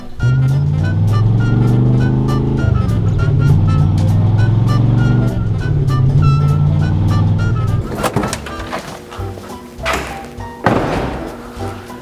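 A 1970 Dodge Challenger engine idles with a loud, steady rumble, then revs and sputters unevenly toward the end among clunks and rattles, with no talk.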